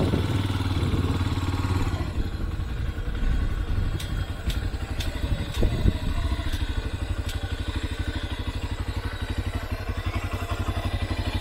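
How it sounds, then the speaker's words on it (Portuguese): A motorcycle engine putters steadily up close, a rough rhythmic idle with occasional clicks and rattles, in a housing development in Crateús, Ceará, Brazil. "Vou parar aqui a moto."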